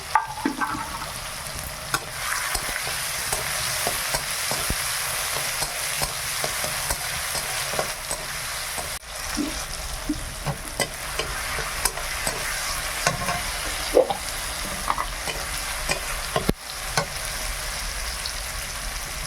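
Onion, tomato and two bay leaves frying in a village kitchen pan, a steady broad sizzle running throughout with scraping stirs and occasional clinks of a spoon, close and fairly loud with no voices.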